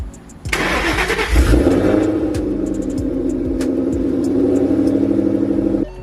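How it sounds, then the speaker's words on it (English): A 700+ hp Ford Mustang cranks and fires, its engine catching with a loud burst, then settling into a steady, lumpy mid-pitched idle up close, with small clicks above it until it shuts off near the end. "we're gonna start up the car"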